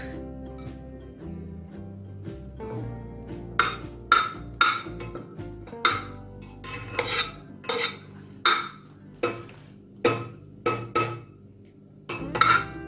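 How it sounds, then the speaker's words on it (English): A metal spoon stirring and tossing a bay leaf in a hot pot while prawn rice is prepared, starting with a soft low sizzle, then a string of sharp clinks and scrapes against the pot in an uneven rhythm. "I'm just slightly tossing it around before adding the rice"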